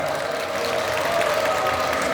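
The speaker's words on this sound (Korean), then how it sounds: "박수 한번 주시죠" A talk show studio audience applauds as a lawyer guest arrives: a continuous, dense wash of clapping at an even level, with no voices over it.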